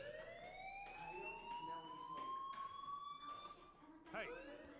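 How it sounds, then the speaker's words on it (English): A fire alarm rings inside the video game Life is Strange, a quiet, steady electronic wailing tone with rising harmonics that persists for several seconds, with a brief sharper blip near the end. "Hey, do you hear that fire alarm?"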